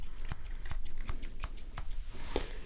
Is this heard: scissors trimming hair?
yes